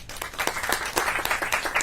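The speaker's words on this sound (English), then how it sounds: "I would ask you to give them a big round of applause as well." Applause from an audience honouring frontline healthcare workers at a state COVID-19 vaccination briefing, a dense, steady patter of many clapping hands filling the room with a few sharper claps standing out, no voices on top.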